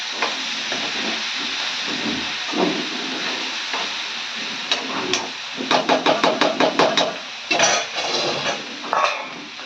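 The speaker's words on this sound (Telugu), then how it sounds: "అయితే చిక్కుడుకాయ అయితే ఉడుకుతుంది ఫ్రెండ్స్" Broad beans (chikkudukaya) boil in a pan, giving a steady steaming hiss; near the end a burst of quick metallic clinks and clatters from the cookware rises over it.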